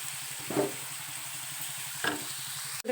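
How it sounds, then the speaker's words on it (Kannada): Potatoes fry in hot oil over medium heat, making a steady close hiss broken by two short scraping stirs. "ಎಲ್ಲವು ಫ್ರೈ ಆಗತ್ತವು ಫ್ರೈ ಆಗ್ಬೇಕ್ರಿ ಅವು ಸ್ವಲ್ಪ ಮೀಡಿಯಮ್ದೊಳಗೆ ಇಟ್ಟು ಫ್ರೈ ಮಾಡಬೇಕು"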